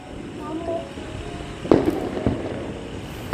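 Distant Diwali firecrackers in Chidambaram give two or three sharp, faint pops over a murmur of background sound, with a brief voice early on.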